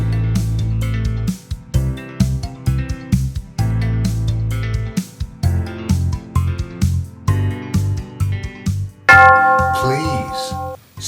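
Steady instrumental music plays with a beat, then a single bright bell chime rings out near the end and lingers as it fades.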